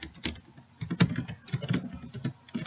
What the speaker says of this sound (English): not looking at what I'm typing